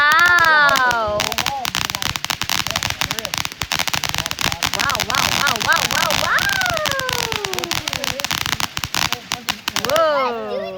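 Fountain fireworks pour out a dense, continuous crackling hiss for about nine seconds, loud and close, with excited voices and whoops over it before and after.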